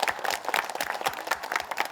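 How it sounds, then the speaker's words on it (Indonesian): Audience applause for the parents at a children's religious academy show, a brisk steady patter of many hands clapping close and loud for about two seconds. "Tepuk tangan sekali lagi untuk kedua orang tua."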